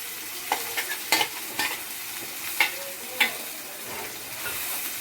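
Paneer masala is stirred in a hot oily pan, several sharp scraping strokes of the spoon over a steady close sizzle of frying.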